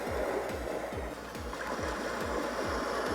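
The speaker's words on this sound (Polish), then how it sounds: "O, ale pluszcze woda, co?" Water splashing and lapping steadily outdoors, with a rhythmic, repeated low sloshing about every third of a second over a constant wash of flowing water, fairly close and moderately loud.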